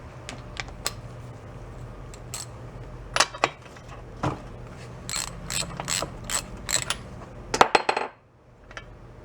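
A ratchet with a plug socket working a spark plug out of a yard-sale chainsaw, giving scattered sharp clicks and bursts of rapid ratcheting, close and fairly quiet, ending in a short pause.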